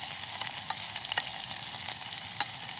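Onions sauté in a pan for noodles at a terrace camping setup, giving a continuous close sizzle with a few sharp crackles and pops and no voices.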